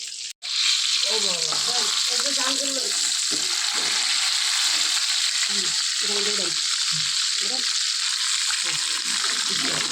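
Pieces of chicken fry in a pan with a loud, steady hiss of hot oil throughout, while a person talks over the sizzle.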